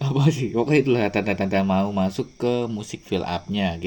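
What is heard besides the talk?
None of the usual background noises is heard.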